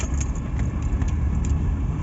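A Suzuki Mehran car driving slowly over bumps gives a steady low road rumble with jolts and rattles of loose fittings, close and continuous, with no talk.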